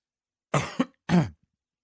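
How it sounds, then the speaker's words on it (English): Two quick coughs close together, then a single harsher cough after a short pause, loud and close with no talking. "Sorry about that. Made me cough."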